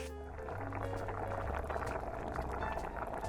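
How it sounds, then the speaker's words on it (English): Duck confit simmers uncovered over low heat on a stovetop, giving a steady, close bubbling and gentle liquid patter that holds evenly throughout with no voices. "we're gonna simmer this low heat on the stove without the lid"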